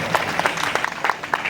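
Audience at a prize distribution ceremony bursts into brief, lively clapping, a quick burst of scattered hand claps close by with no voices over it.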